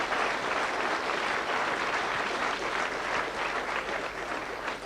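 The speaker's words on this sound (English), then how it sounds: "Give them a nice round of applause." Applause from a club audience at a 1983 comedy night, a dense, steady wash of many hands clapping throughout, loud and sustained with no clear talk over it.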